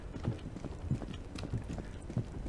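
Footsteps follow the player in the Roblox horror game The Mimic, a slow, steady series of four heavy thuds about half a second apart, close and clear over a murky ambient background.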